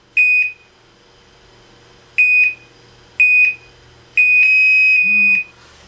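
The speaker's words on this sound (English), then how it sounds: "It'll beep approximately four times and shut off." A heart rate monitor beeps four times as it shuts off, in short, high-pitched tones, the last one held longer, with quiet gaps between them.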